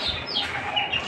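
Chickens on a farm give soft, close clucks and chirps in a brief burst over a steady background hum.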